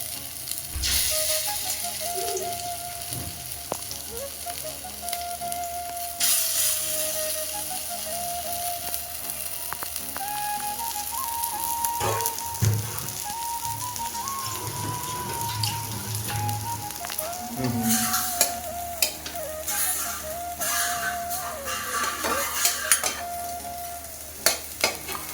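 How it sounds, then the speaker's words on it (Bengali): Prawn-head lentil fritters sizzle steadily in hot oil in a pan, a continuous crackling fry broken by a few stirring scrapes and knocks, close and moderately loud with no voices. "সবগুলি ভরা এভাবেই ভেজে নিতে হবে।"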